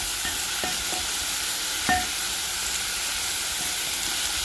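Pork simmering in dhania stock over low heat, stirred in the pot: a constant hiss and sizzle, with a few soft scrapes and knocks of the spoon, close and steady, no speech.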